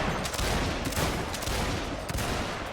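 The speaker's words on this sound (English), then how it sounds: "you guys will now target this area with canister" Dense, continuous crackle of massed gunfire and canister shot from artillery in a Total War battle, a thick unbroken fusillade with no voices over it.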